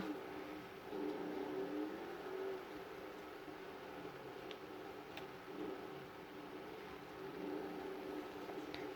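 A Vapid Hot Knife muscle car engine in GTA V drones steadily at close range, with a low throaty hum and mild rises in revs, continuing throughout without speech.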